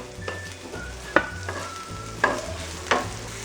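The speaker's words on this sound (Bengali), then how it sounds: "পেঁয়াজটাকে আমি ফ্রাই করে নেব তবে খুব একটা লাল লাল করে নয়" Thickly chopped onion frying with ginger and garlic in a pan, a low steady sizzle broken by several sharp stirring scrapes and clatters of the spoon at irregular intervals.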